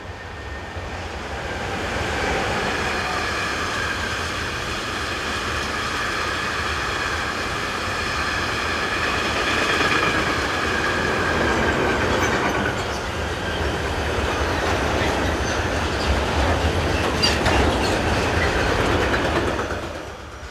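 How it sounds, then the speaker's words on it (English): A DB Cargo Class 185 electric locomotive hauls a freight train along a Swiss main line near Olten, with a continuous loud rumble and rhythmic wheel clatter throughout, swelling slightly as the wagons pass. "Fairly rare power for this line is this DB Cargo Class 185"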